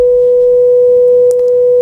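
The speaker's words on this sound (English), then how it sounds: "since it's just a sine wave, it's really easy to see what the notes are" A pure sine wave tone played in Ableton holds a single steady pitch throughout, loud and unwavering, with a few faint clicks near the end.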